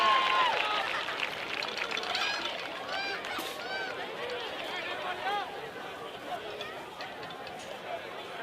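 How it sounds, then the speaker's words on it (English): A crowd at a high school football game between Chestatee and Jefferson on senior night claps and cheers, a broad wash of applause and chatter with whistles that slowly fades. "Nice round of applause for the shaking up dragon on the play."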